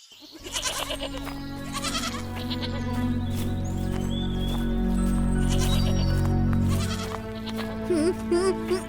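Cartoon goats bleat in a long, wavering, nasal cry that swells and holds for several seconds, followed by a few shorter bleats near the end, set against a low background tone.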